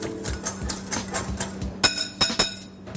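A whisk clinking rhythmically against a bowl while mixing a cumin and oregano dressing, with quick repeated taps that grow sharper and louder toward the end.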